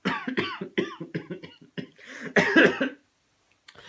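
A burst of short, rapid coughs and throat-clearing sounds, close and fairly loud, trailing into silence with a faint sound at the end.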